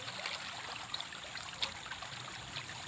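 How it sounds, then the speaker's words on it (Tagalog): Water trickles and pours steadily into a basin while pig or chicken intestines for isaw are being cleaned, a soft continuous stream with faint splashes and no talking. "Lagyan ko muna ng tubig."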